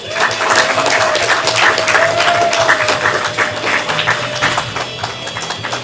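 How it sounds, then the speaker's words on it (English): A comedy show crowd at a ComedySportz improv match claps loudly and close, with a full, dense burst that swells early and then eases slightly toward the end. "Give them a round of applause."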